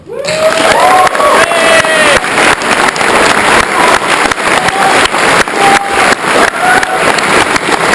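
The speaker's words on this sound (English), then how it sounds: "please round of applause for Total Rock" Loud audience noise at a gaming expo fills the whole stretch, a dense wash of clapping and cheering with a few whistles rising over it.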